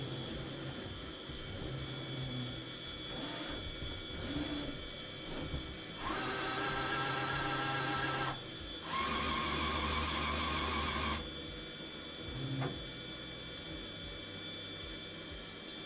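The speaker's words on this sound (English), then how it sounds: "I think that whirring noise is it trying to pull ink through the lines" The pump of a budget Chinese UV printer whirring as it pulls ink through empty lines, a faint steady mechanical drone with two louder sustained whirring stretches in the middle.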